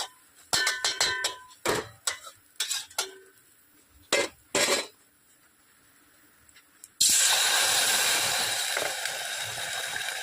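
Water hits a hot pan of fried urad lentils and sets off a loud, sustained sizzling hiss. Sharp metal clinks and scrapes of utensils against the pan come first, with quiet gaps between them.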